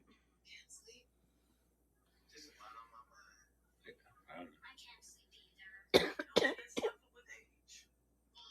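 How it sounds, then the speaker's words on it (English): A person coughs several times in a quiet indoor space, with a cluster of sharp, close coughs and throat clearing in the latter half, among soft whispered talk. "Every time I cough, I move the camera."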